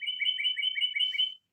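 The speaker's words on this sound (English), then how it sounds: "Got some birds." Birds outdoors give a rapid run of bright, repeated chirps, close and clear for just over a second before stopping abruptly against quiet surroundings.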